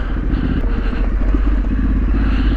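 A motorcycle rides along a road in Wales with a steady, loud, droning engine note and continuous wind and road rumble throughout, with no voices.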